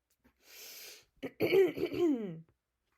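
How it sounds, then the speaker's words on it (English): A short breath followed by a person clearing their throat with a few raspy, voiced rumbles, close and alone. "Sorry, I have to clear my throat"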